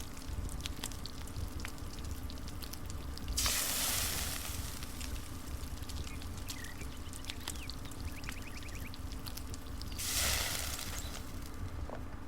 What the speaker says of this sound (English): We hold it till we hear the sizzle